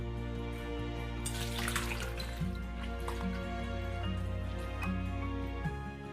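Soaking water is poured off shiitake mushrooms soaked alongside kelp, with steady dripping and trickling liquid close by and no talk.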